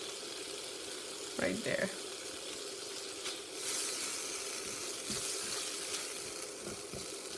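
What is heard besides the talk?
tomato and spices sizzling in oil for chana curry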